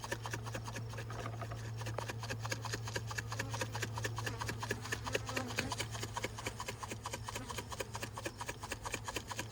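A container of bees shaken hard during a summer hive inspection, giving a continuous close rattling, rubbing texture with rapid even pulses, over a steady low hum.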